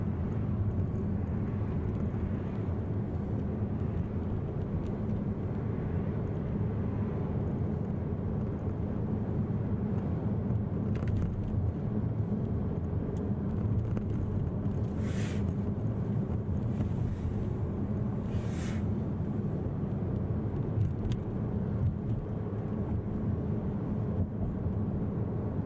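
A car drives along a road through a German border crossing. Steady low road and engine rumble with wind noise runs throughout the clip, with no talk.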